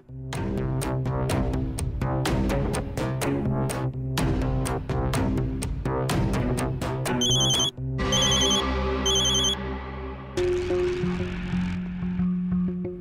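A phone ringtone plays loudly, a repeating electronic melody with rapid pulsing notes that shifts pattern partway through.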